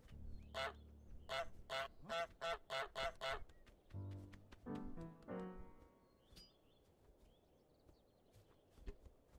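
Goose honks in Untitled Goose Game: a rapid string of sharp, nasal honks, then a lower burst of squawks, fading into quiet room noise with a faint blip near the end.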